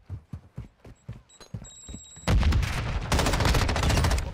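Gunfire in a first-person shooter, with an M13 rifle among the guns: a run of spaced single shots gives way to a dense, loud burst of rapid automatic fire that carries on to the end.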